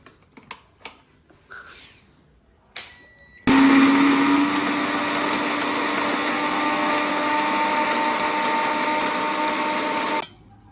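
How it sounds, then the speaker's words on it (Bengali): Some light knocks and clicks come first, then an electric blender grinds dried chilli into powder with a loud, steady whirring roar for about seven seconds before it cuts off. "বন্ধুরা মরিচ পাউডার করব আমি এই আমার ব্লেন্ডারে।"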